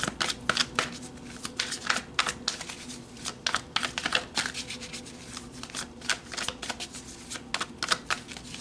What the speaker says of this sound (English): So let's pull some tarot cards and go deeper.